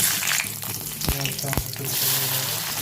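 Green chillies hitting hot oil in a wok give a loud, steady sizzle with a couple of sharp clinks partway through, close up and alone.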